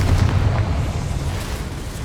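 A Confringo blast spell goes off in Hogwarts Legacy, a loud, boomy explosion with deep low rumble that sustains and slowly fades over about two seconds, no voices present.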